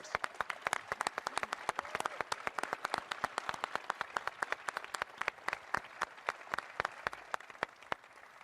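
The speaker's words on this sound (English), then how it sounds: "let's give him a round of applause" An audience applauds Coach Gary Williams at a Maryland men's basketball press conference, sharp individual claps from a modest crowd ringing out steadily and evenly over several seconds, fairly faint and without talk.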